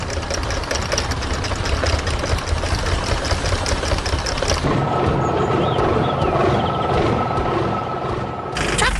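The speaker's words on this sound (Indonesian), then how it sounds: "Traktor merah berada di tengah lapangan tanah, berdiri di depan pagar putih dan rumput hijau yang menyenangkan, siap untuk bekerja sepanjang hari." A red tractor's engine runs steadily in a dirt field in front of a white fence, a loud continuous drone that shifts to a lower, smoother running tone partway through.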